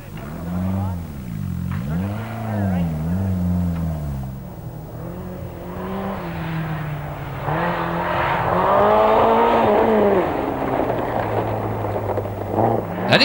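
A rally car drives back onto a stage after a crash, its engine revving and rising in pitch throughout, loud and close, with a brief drop before climbing again.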